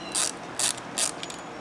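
Wrench loosening a jam nut on an Echo SRM-231 string trimmer, three quiet, evenly spaced ratcheting clicks followed by fainter clicking.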